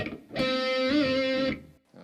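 A single sustained electric guitar note with its distortion turned down for a cleaner tone, rings brightly for about a second with a slight pitch bend, then cuts off before a short quieter note follows.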